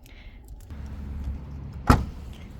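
The rear seat of a Honda Civic e:HEV is folded down inside the car, with a low muffled rustle followed by one sharp, close thump as the seatback drops, and no voices.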